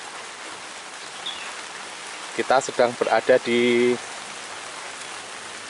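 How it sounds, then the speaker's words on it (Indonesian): Heavy rain falls steadily over a village road in Sragen, Indonesia, a constant broad hiss of drops throughout, with someone speaking briefly over it midway. "hujan deras."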